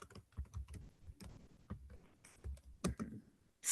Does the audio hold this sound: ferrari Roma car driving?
no